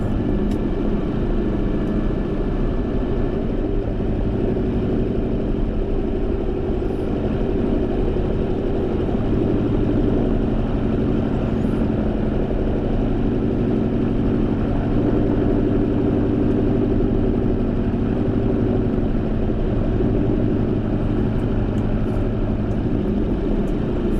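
The engines of a North American B-25 Mitchell bomber drone steadily from inside the aircraft, a loud, unbroken propeller roar with no voices.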